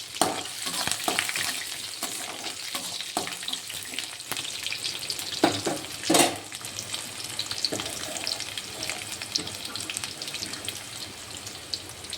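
Finely chopped garlic and slit green chillies frying in a pan, a continuous crackling sizzle with sharp pops and scraping stirs, close and without any talk.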